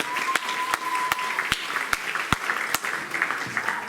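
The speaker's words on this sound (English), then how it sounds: "Let's give her a round of applause." Audience applause at a school board meeting, a steady wash of clapping from a room of people with a few sharp, louder claps standing out at irregular moments, moderately near and without speech.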